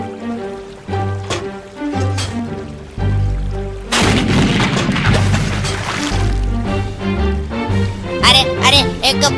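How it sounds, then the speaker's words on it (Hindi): Cannon fire from a Hindi comedy cartoon set in a jungle, heard as a burst of loud, wide booming blasts over looping background music, with further sharp bangs near the end and voices around it. "चुप बैठ और चला तोप"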